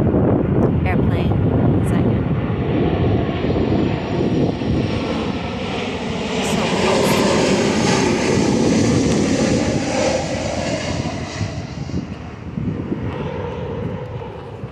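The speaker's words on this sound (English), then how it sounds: "Airplane." A propeller airplane passes overhead as a broad, steady roar with wind buffeting the microphone throughout, heard outdoors.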